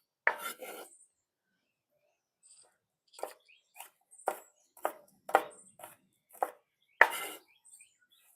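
Fresh turmeric root chopped with a knife on a cutting board, a short opening cut, then a pause, then about nine crisp, irregular chops, close and fairly quiet with no voices.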